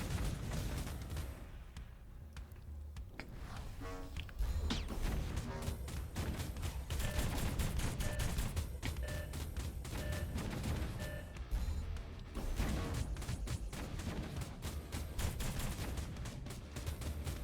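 Video game gun firing in an indie shooter, a rapid, dense stream of loud shots over a busy, continuous mix that barely lets up across the whole stretch.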